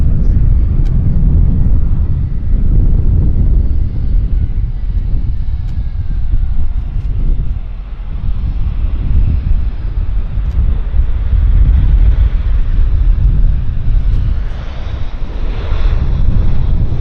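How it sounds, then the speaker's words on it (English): A heavy aircraft lands at Vancouver Airport with thrust reversers engaged, producing a sustained, loud low roar from a distance, mixed with gusty wind buffeting the microphone. "Thrust reversers are working really well."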